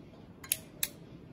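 Two sharp metallic clicks, evenly spaced and close, as a wrench ratchets the feed lever of a gun-style automatic solder-feed soldering iron forward, over quiet background.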